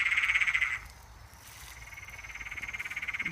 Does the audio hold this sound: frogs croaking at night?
yes